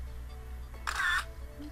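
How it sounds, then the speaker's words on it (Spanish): A camera shutter click from Bandicam's screenshot capture, triggered by the F11 key, sounds once as a short, bright snap over a low steady hum. "ven que suena ese sonido del obturador"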